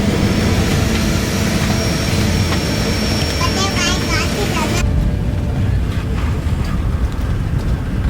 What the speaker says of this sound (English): cabin secure, and we are taxiing for our departure